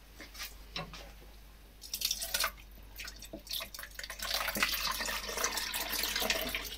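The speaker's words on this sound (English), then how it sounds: "I'm just going to drain a little bit of the juice." Juice is drained from fruit for a cake batter, a close trickle and dripping of liquid that builds from scattered drips into a steadier pour.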